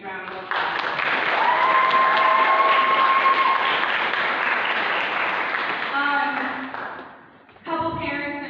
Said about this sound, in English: You guys need to give your parents a huge round of applause.